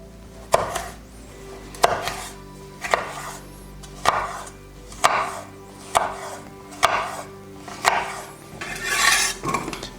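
A knife cuts thin slices on a board for a ribeye steak sandwich in a steady series of about eight crisp, close chops, each followed by a brief scraping slide, with no talk.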